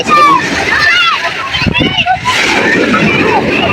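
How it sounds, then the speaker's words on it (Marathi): Sea water splashes and sloshes loudly as waves wash in one after another in Mumbai, with children and other people talking and shouting close by. "लाटावर लाटा येत आहेत"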